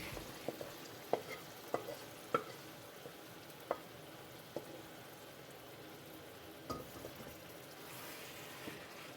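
Chicken frying in a pan with tomatoes and being stirred, a soft, steady sizzle under sharp scraping and clinking of the spoon against the pan, faint and close.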